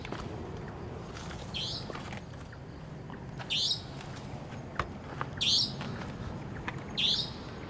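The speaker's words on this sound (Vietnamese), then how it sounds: "đêm hôm mà ở trên núi mà vắng lặng như thế này lại nghe tiếng những cái loài chim rồi nó hót" Birds call at night on a quiet mountainside: three or four sharp, rising chirps spaced a couple of seconds apart over a constant hiss of background night noise.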